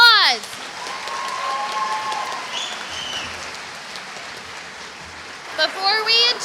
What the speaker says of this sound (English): Let's give Mr. Grooms another huge round of applause.